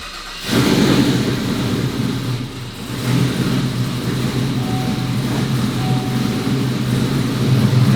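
A built twin-turbo C8 Corvette with an upgraded camshaft fires up and settles into a deep, lumpy idle, rumbling loudly and steadily nearby with a brief dip partway through.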